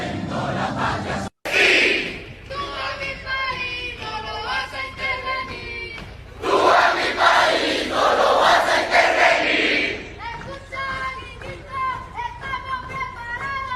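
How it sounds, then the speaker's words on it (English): A large crowd of protesters in Venezuela roars and chants, loud and sustained, swelling strongly midway, with many overlapping voices. "Big crowd."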